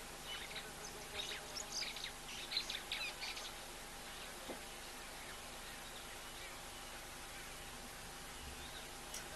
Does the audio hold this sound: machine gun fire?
no